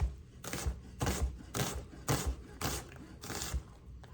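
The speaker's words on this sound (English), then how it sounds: "And then I'm gonna cut it this way, but making sure I don't go all the way to the stem." Knife slicing through a vegetable on a cutting board, stopping short of the stem, with about seven regular, evenly spaced cutting strokes close up.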